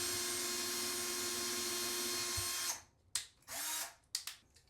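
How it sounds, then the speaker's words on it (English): A power drill fitted with a 3/16 bit bores into a shower wall, whirring loudly and steadily for nearly three seconds, then stopping, followed by a few short bursts and clicks. "I'm just going to drill it."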